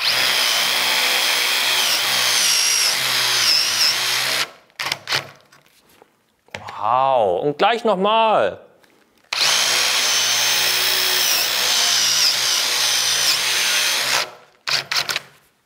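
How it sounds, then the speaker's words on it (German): A loud power drill whirs steadily, cuts out, and starts again, wavering in pitch as it bores wavy, crooked holes through wood; a brief exclamation sounds in a pause. "So kann man verrückte, schiefe Löcher bohren."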